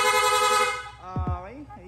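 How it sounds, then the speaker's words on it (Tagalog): Rapid-fire aftermarket horn on a Yamaha Sniper 155 motorcycle, a bright multi-tone electronic blare sounding loud and close for about a second before breaking off, followed by a short burst of nearby talk. "Tapos rapid horn."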